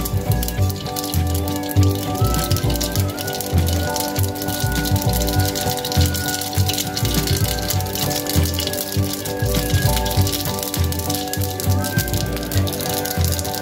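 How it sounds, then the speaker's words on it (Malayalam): Mustard seeds spluttering in hot oil in a frying pan, a dense, continuous crackle and rapid popping close up, under a steady hum of background music. "അപ്പോൾ കടുക് പൊട്ടി കഴിഞ്ഞു"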